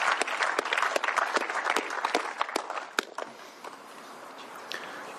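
Applause from an audience at a governor's bill signing, a dense patter of clapping that is loudest at the start and thins toward the end.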